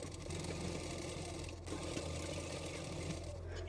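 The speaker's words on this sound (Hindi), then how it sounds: "तो मैं एक्स्ट्रा फैब्रिक को इस तरह से अंदर की तरफ फोल्ड करके सिलाई कर लूँगी" A sewing machine runs steadily while stitching folded-over extra fabric on a princess-cut blouse, giving a continuous mechanical whir at moderate volume with no pauses and no voices.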